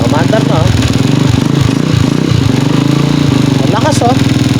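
A Pinoy 155 motorcycle engine runs loud and steady at close range after an ignition coil check, a continuous low rumble with brief revs, while people talk over it.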